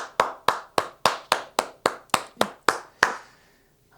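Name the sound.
church congregation applause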